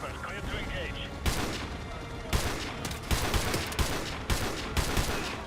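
Gunfire from the video game Modern Warfare 2 Remastered, heard as repeated sharp loud shots in irregular bursts over a steady background din, with talk mixed in.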